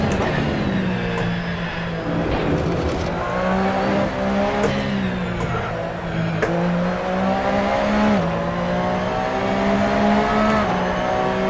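A race car engine in the racing game Assetto Corsa drones loudly and steadily. Its pitch climbs and drops through repeated gear changes, close and alone, with short scrubbing noises along the way.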